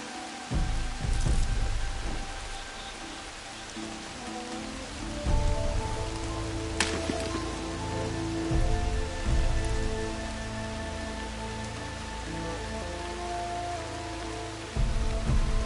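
Steady rain falls throughout a scene in the video game Fallout, a soft continuous patter under low mechanical hums and tones, with occasional louder swells.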